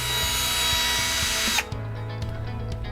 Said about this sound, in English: this Bosch GSR 120Li Professional Cordless Drill and Driver